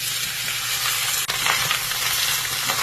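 Loud, continuous sizzling and crackling of pork frying in a very hot wok, with a brief clank partway through.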